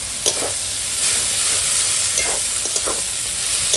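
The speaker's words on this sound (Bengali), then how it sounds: "দিয়ে দিলাম আদা রসুন বাটা, দেবো হলুদের গুঁড়ো, দেবো লঙ্কার গুঁড়ো, আর দিব স্বাদ মতো লবণ, দিয়ে এখন ভালো করে কষাবো" Lotte fish with ginger-garlic paste, turmeric, chili powder and salt sizzles steadily in a pan as it fries, with the scrape of stirring repeated through it at close range.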